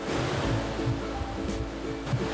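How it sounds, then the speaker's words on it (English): Creek water rumbles and rushes in a continuous broadband wash outdoors, steady and fairly close with no voices. "it's lots of water rumbling, and you can probably hear the water as well"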